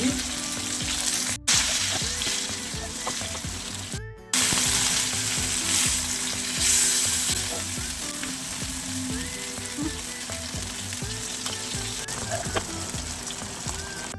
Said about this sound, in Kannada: ನೋಡಿ ಈ ಥರ ಚೆನ್ನಾಗಿ ಫ್ರೈ ಮಾಡ್ಕೊಳ್ಳಿ